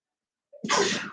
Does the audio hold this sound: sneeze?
yes